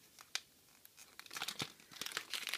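A plastic bag holding heart-shaped key charms is pulled and torn open, giving a run of crisp crinkling and tearing bursts that grow busier toward the end, close by and fairly quiet.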